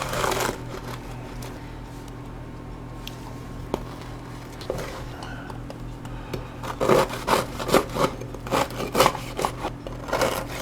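A knife saws through cooled homemade focaccia flatbread, giving rough rubbing and crackling strokes that grow louder and more rhythmic toward the end, close by, with no talking.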